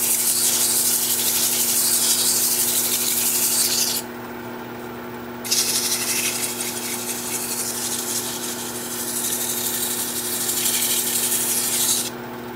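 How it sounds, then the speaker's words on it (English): Sandpaper at 120 grit rasps against a driftwood bean pot spinning in reverse on a wood lathe at about 350, a steady close scratchy rub over the lathe's constant motor hum, pausing briefly and resuming. "Now I'm just going to sand the piece in reverse at about 350"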